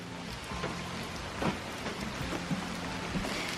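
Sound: heavy rain

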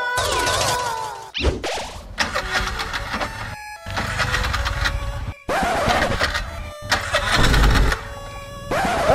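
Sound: vehicle engine starting

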